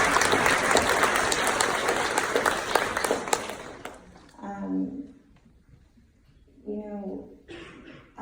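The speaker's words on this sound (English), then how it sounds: "let's clap for ourselves." An audience at a talk breaks into loud, sustained applause with scattered chuckles, which fades out, after which people begin speaking.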